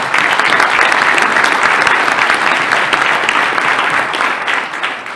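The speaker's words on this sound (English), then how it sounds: "one more huge round of applause for Crystal today" Dense, steady applause from a conference keynote audience fills the whole stretch, loud and continuous with no talking, easing slightly near the end.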